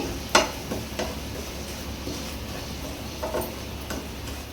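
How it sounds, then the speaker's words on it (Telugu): Semolina roasting in ghee in a pan for kesari, a faint steady sizzle with a few sharp ticks and scrapes as it is stirred. "ఇప్పుడు మనం ఇదే నెయ్యిలో మనం రవ్వ వేసి వేగించుకుందాం"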